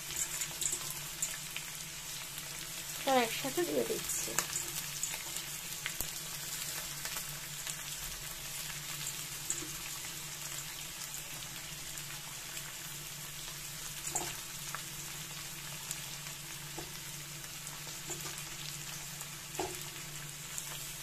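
Bottle gourd peels and long-sliced onion tossed together into hot oil, a faint steady sizzle and hiss running throughout, with a brief clatter of the pieces going in near the start and occasional soft clicks afterward.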